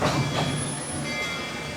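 The Walt Disney World Railroad train at Magic Kingdom rumbles and clatters steadily as it pulls out of the station, with faint squealing tones over the continuous rolling noise.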